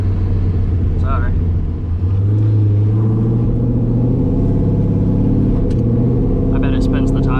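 A cammed LS-powered Z28 Camaro on a wet road gives off a steady, loud low engine rumble with slight rises in pitch, heard from inside the car under ongoing talk.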